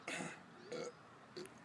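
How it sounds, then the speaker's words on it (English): A burp after chugging a drink, followed by two shorter croaky belches, all faint and close, with no talking. "the more you let the burps out, is the harder it'll be to puke"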